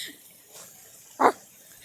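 A human voice imitates a dog's bark with a single short, scratchy, rough-sounding woof, close and alone amid quiet.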